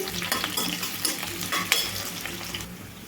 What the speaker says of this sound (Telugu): చూడండి ఆయిల్ అయితే హీట్ అయిందండి ఉల్లిపాయ ముక్కలు ఉల్లిపాయ ముక్కలు బాగా వేగాలండి